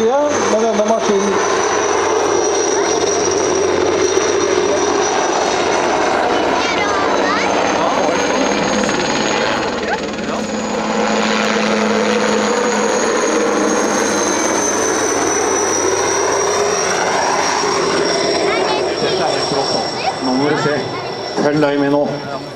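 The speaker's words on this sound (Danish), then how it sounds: "Nå kommer helikopter inn på full fart her." A helicopter flies in at full speed at an air show, its loud, steady rotor drone with a whining turbine tone filling the scene while an announcer talks over it throughout.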